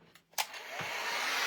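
A hair dryer starts with a click and a brief burst, then settles into a steady, close, loud blowing roar that continues to the end.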